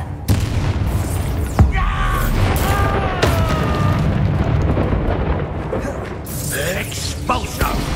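Magic explosion spells Confringo and Bombarda go off in the Hogwarts Legacy video game: heavy booms and blasts rumble over a continuous crackling roar, with a voice speaking between the impacts.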